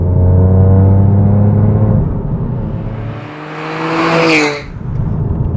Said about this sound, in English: So what you're hearing inside the car is the noise from the exhaust.